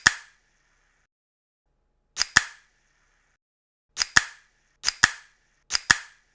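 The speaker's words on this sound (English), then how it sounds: "That was the sound of me opening a pop can," Pop soda can being opened, heard as sharp, close clicks and snaps: one at the start, then four tight doubled pops spaced about a second or two apart, each alone in a quiet room.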